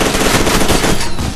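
Rapid automatic gunfire from a shooter game, a dense loud continuous burst of shots with no pauses, up close and alone.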